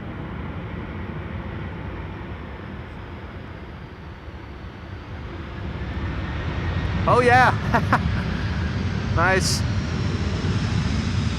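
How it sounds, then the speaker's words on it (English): A Delta Airlines Airbus A330 lands on the Polderbaan runway at Schiphol, its engine roar swelling gradually from a distance and growing loud. People exclaim briefly over the noise. "Delta Airlines flight 164 is landing here. A330."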